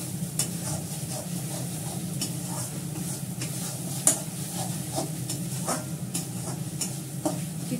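Ingredients are being sautéed in a pan ahead of adding yogurt and milk, with a steady sizzle and a regular scrape of stirring, plus one sharper clink of utensil against pan partway through.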